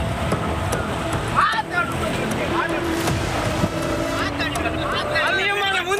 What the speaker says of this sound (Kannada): ಇವೆಲ್ಲ ಬುಲ್ ಟ್ರಾಲ್ ಮೀನುಗಾರಿಕಾ ಬೋಟ್ಗಳು